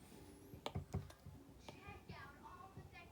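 Keyboard typing during a Procreate drawing session, a few quick clicks scattered through a quiet stretch with faint room noise and no speech.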